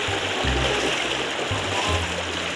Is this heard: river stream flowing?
yes